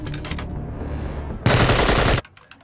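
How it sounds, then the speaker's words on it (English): A dense burst of automatic gunfire, rapid and loud, cuts in abruptly after a stretch of tense background score and ends just as suddenly, with no talk over it. "the eye in the sky is picking up gunfire in Zone 12"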